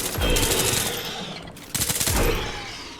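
Sustained bursts of loud automatic gunfire in the video game Nuclear Epoch, two long rattling volleys separated by a short dip, close and dense throughout.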